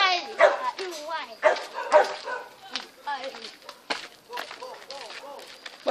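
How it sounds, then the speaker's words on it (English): A dog outdoors barks and yips several times in short bursts, mixed with people talking nearby. "I know that dog is here."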